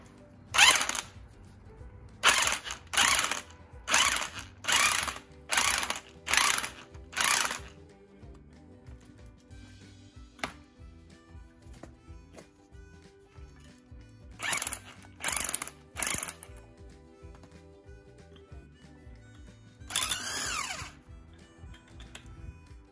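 Impact wrench driving the shock mount nut on a 1980 VW MK1 Rabbit Convertible, heard as several short rattling bursts in quick succession, a pause, then a few more bursts and a final one, fairly loud and close, with no talk.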